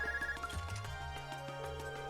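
A handheld ARCUS communicator rings in the Trails of Cold Steel video game, a short repeating electronic ringtone with bright tonal pulses, clear and alone over soft background game music.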